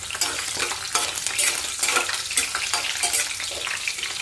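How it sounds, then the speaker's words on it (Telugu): Dried red chillies and garlic fry in hot oil in a pan, giving a loud, dense, continuous sizzle with spatula stirring scraping through it, close up and without voices. "ఎండుమిరపకాయ వెల్లుల్లిపాయ వేగిన తర్వాత అప్పుడు ఉల్లిపాయలు వేసుకోవాలి"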